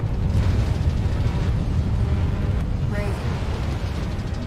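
Missile explosions in the video game Armored Core 6, a rumbling series of booming blasts layered over continuous low roar, dense and loud throughout with a brief whistling streak near the end.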